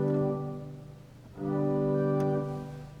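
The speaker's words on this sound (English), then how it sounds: "You have nice little flutes." Soft flute stops on a church's Holtkamp pipe organ play two sustained chords separated by a brief dip, mellow and steady, with no voices.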